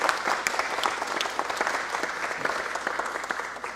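A city council meeting audience applauds to honor the Public Works staff. Brisk, crisp clapping from many hands runs steadily through the short stretch, heard at a moderate distance in the chamber.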